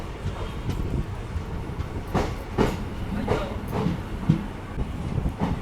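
Train 09561 runs from Rajkot toward Porbandar, leaving Ribda station, with a steady rumbling roll and repeated clacking wheel beats at moderate loudness.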